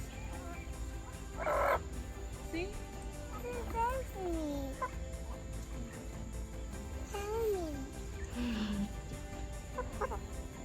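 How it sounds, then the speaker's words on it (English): Chickens cluck softly close by in a yard, several short calls and squawks spread across the moment, with a child and an adult talking over them. "She wants to go with her chicken friends."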